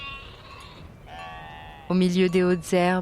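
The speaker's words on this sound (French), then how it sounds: "chèvres et brebis broutent, paisibles" Goats and sheep graze in tall grass below Mont Canigou, and a near, loud bleat rings out in several wavering pulses, following quieter sustained tones, while a person talks softly over it.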